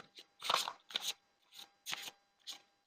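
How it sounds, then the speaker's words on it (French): Tarot cards being shuffled by hand in quick, papery bursts, about six separate shuffles at an uneven rhythm, close and fairly soft with no voices. "après avoir mélangé les cartes sur Gaïa"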